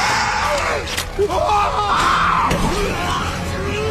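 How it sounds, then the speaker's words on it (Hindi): A man screams for help in the horror film 30 Days of Night, loud, strained yelling that rises and breaks over several seconds amid tense film sound and a few sharp impacts. "ओल्सन मदद के लिए चिल्लाता है"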